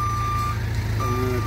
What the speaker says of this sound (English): That's our machine loading up.